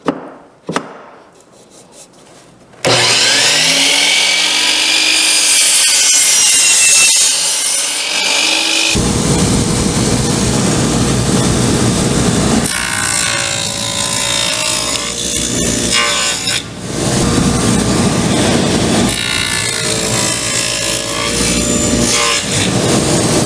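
A DeWalt 12-inch compound sliding miter saw spins up and cuts through wood, giving a loud, close whine and rasping cut lasting several seconds, followed by further cutting passes and winding down.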